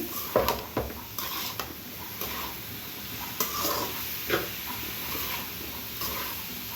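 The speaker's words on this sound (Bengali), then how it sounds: "তো ভাজিটা রান্না করে দিচ্ছি, পেঁপে ভাজি।" Papaya bhaji cooked with turmeric is stir-fried in a pan, a soft sizzle running under repeated scraping and clinking strokes of a utensil against the pan, close by with no voices.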